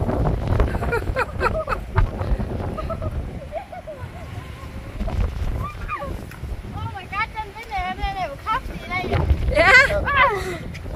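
Storm-force wind gusting and buffeting a microphone outdoors during a storm, a loud rumbling roar that rises and falls under people talking and laughing nearby.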